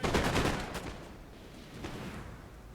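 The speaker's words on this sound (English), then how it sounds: "here comes the grape shot" Grape shot from cannons tears into a line of fusiliers in a Napoleon: Total War battle: a dense, crackling burst of many shots, loudest at the start, fading into a quieter, scattered rattle of musketry.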